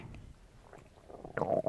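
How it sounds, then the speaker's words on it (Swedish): A hungry stomach gurgles and rumbles softly at close range, rising into a louder, drawn-out growl near the end, with no talking. "Nu kurrar min mage igen."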